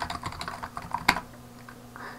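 Keys tapped in short irregular bursts on a computer keyboard while entering a password in Linux, with one sharper, louder keystroke near the middle, close and alone without voices.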